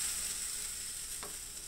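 Chicken sotanghon noodles sizzle steadily in a pan while being stirred, a faint continuous hiss with one brief scrape of the utensil, no voices.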